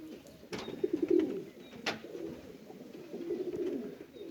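Pigeons in a new coop give low, throaty coos over a steady murmur of background sound, with a couple of sharp brief knocks among the calls.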